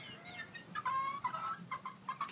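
A pet chicken clucks and chirps in a quick, uneven series of short calls, close and fairly loud, while it is coaxed out into a new outdoor space.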